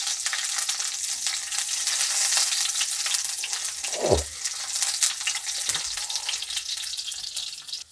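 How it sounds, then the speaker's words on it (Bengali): Garlic frying in a pan sizzles with a bright, continuous hiss, and a single low thud with a scrape lands about halfway through as the cloves are stirred. "তো রসুন ভেজে নেব। রসুনগুলোকে একটু নাড়াচাড়া করে নিচ্ছি।"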